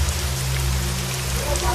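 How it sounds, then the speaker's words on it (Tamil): Heavy rain falls steadily and loudly, a dense, continuous hiss and patter on surfaces with a low rumbling undertone. "மேம் மேம் மழை வேற ரொம்ப பெய்யுது."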